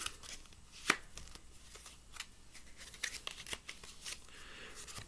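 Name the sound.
playing cards being cut in an advanced false cut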